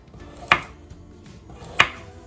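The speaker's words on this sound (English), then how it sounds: "So you just want to slice them in about 1/4 inch slices." A knife slices carrots on a cutting board, making two crisp, close chops about a second apart with quiet gaps between them and no talk.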